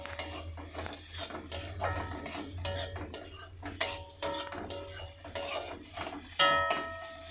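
A spatula or spoon scrapes and clinks against a pan as crumbled fried egg is stirred into a mixture of chopped stale roti, with a faint sizzle underneath. The strokes come as a steady series of close, metallic scrapes.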